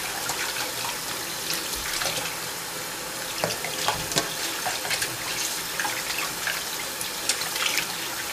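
Tap water runs steadily into a kitchen sink while raw chitterlings are washed by hand, a continuous splashing stream with small clinks and sloshes, moderately close and without talk.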